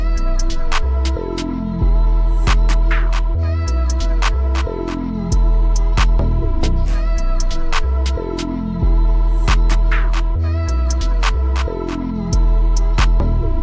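A hip-hop type beat made in FL Studio, with heavy sliding bass, where crisp snares and claps land on a steady repeating rhythm alongside a looping melody.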